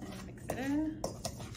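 A spoon clinks and scrapes against a bowl in a few sharp taps while an egg is mixed into butter and sugar for a pumpkin bake, with a brief voice in between.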